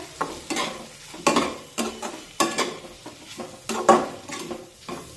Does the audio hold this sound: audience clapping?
no